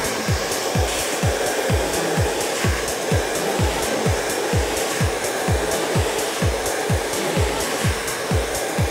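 A hair dryer blows steadily and loudly at close range while hair is styled with a round brush, its whine carrying a fast, regular pulsing flutter as the airflow is worked down the hair.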